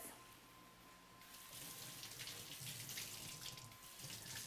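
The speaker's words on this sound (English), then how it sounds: "Give your hands a rinse." Hands are rinsed under a running kitchen tap during meal prep. Water starts after about a second, then flows steadily and closely, splashing a little and unevenly, with no one talking.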